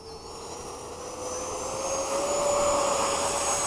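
A 70mm electric ducted fan model F-16 jet takes off with a high, thin turbine whine that rises in pitch and grows steadily louder over a few seconds.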